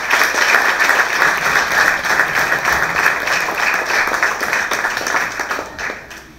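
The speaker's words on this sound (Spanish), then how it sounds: "Fuerte el aplauso para los finalistas." Sustained, loud crowd applause for the finalists at a regional grand final in Comarca Guna Yala, a dense wash of many hands clapping that holds steady before easing slightly at the end.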